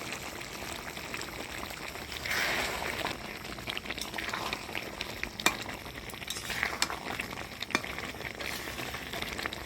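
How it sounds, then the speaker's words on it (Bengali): Chicken curry is stirred in a pan after garam masala powder is added, giving a steady low sizzle with scraping spoon strokes and occasional clinks, close and continuous with no talk. "গরম মশলার গুঁড়া দিয়ে নাড়াচাড়া করে নিলাম।"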